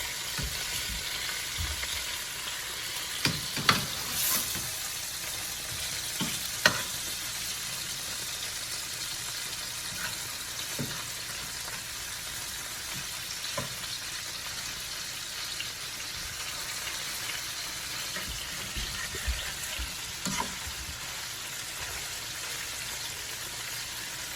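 Cubed pork, chicken and beef fry in a pan for chop suey, giving a steady, close sizzle throughout with occasional sharper pops and stirring scrapes, no voices.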